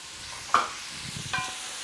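Chopped onion and garlic dropped into hot oil for pozole: a faint, soft sizzle with two brief stirring clatters.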